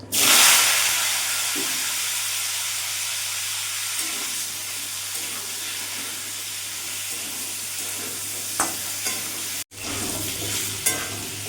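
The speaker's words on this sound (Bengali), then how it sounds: "এখানে পেঁপে আলুটা আমি কিছুক্ষণ ভাজা ভাজা করে নিয়েছি" Diced papaya and potato fry in a pan for a soybean curry, giving a steady loud sizzle that is strongest at the start, with occasional stirring scrapes and a brief break near the end.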